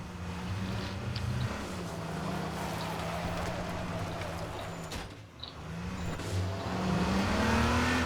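A jeep engine in a video game drones steadily with rising and falling revs, with faint clatter and game effects over it.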